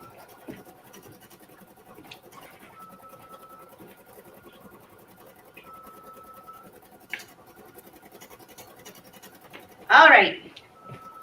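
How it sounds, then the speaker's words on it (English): An embroidery machine stitches a design for an embroidered tray, giving off a steady close mechanical whir with faint ticking. A louder, brief rustling clatter comes near the end. "So while that's embroidering"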